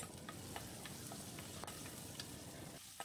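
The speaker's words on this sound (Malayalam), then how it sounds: "ഇനി ഇത് പെട്ടെന്നൊന്ന് വഴന്ന് കിട്ടാൻ വേണ്ടി കുറച്ച് ഉപ്പുകൂടെ ചേർത്തൊന്ന് വഴറ്റിയെടുക്കണം" Shallots sautéing with salt in a pan for brinjal curry make a faint, continuous sizzle, broken by soft stirring clicks and no speech.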